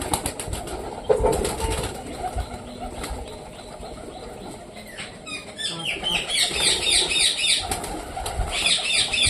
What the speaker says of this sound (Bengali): এই যে সেই পায়রাটা